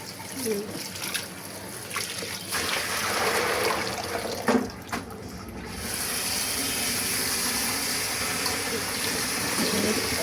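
Tap water runs and pours into a container to soak food in a home kitchen, a continuous splashing stream that steadies into an even rush, with a voice talking at times.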